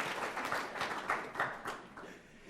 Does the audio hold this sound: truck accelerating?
no